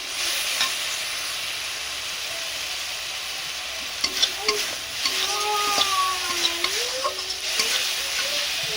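Water is poured into a pan of cooking grape chutney, raising a steady background sizzle and bubbling, with a few scraping stirs and clinks in the second half; no talk.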